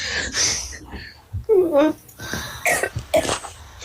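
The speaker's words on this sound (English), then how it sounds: "I started coughing." A person coughs several times in harsh, throaty bursts, mixed with throat clearing and a few spoken sounds.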